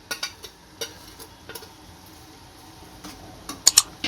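Ghee-roasted vermicelli being stirred in a pot for seviyan kheer, a few soft, scattered scrapes and light taps of the spoon, with a quick cluster of clicks near the end; quiet and close.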